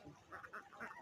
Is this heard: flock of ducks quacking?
yes